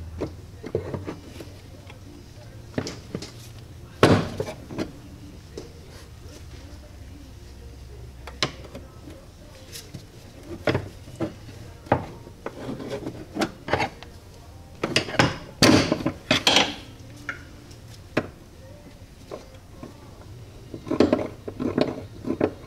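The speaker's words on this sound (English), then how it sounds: "take a pry bar or a screwdriver, and we're going to go ahead and pop these things, these rods," Metal clicks and clanks from a pry bar or screwdriver popping shift rods off a car's shifter linkage, scattered sharp impacts with a dense cluster near the middle and a few more toward the end, close up in a quiet garage.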